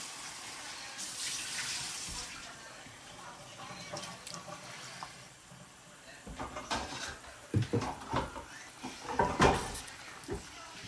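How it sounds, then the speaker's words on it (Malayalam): Tamarind water poured into a pan for bitter gourd thiyal, a soft watery splash and trickle at close range, followed by clinks and handling knocks of the pan. "പുളിവെള്ളം റെഡിയാക്കി വെച്ചിട്ടുണ്ടായിരുന്നു, ആവശ്യത്തിന് ഒഴിച്ചു കൊടുക്കുവാണ്."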